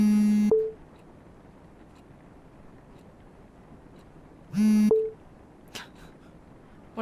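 Phone calling tones in the horror video game Love, Sam: two long electronic ring bursts a few seconds apart, each ending in a short higher blip, with a faint brief click between them over quiet background hiss.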